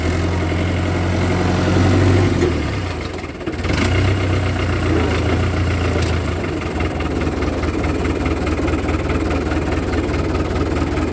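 A Fiat 7056 farm tractor from 1986–1995, diesel engine running with a low steady rumble, revving briefly near the start, then settling into a long, even idle heard up close.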